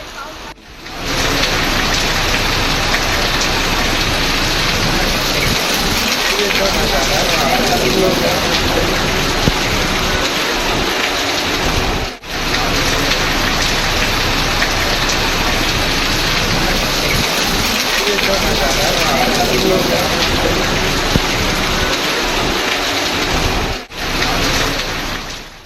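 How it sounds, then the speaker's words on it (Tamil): Heavy rain pours steadily over a Tamil Nadu district during a sudden shower, a dense unbroken roar with two brief dips, while a voice speaks beneath it. "திடீர் மழையால் மக்கள் மகிழ்ச்சியடைந்தனர்"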